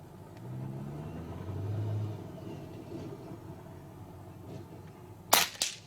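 A Kral Puncher Armour .22 (5.5mm) bullpup PCP air rifle fires a final shot, a sharp close crack followed by a quick second snap, after a few seconds of low rumbling background.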